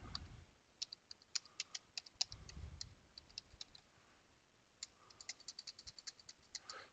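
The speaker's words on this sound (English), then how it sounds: "Would help if I was typing straight" Fingers tapping on a computer keyboard in quick, uneven runs of soft clicks, close but faint, with a short pause midway and no talking.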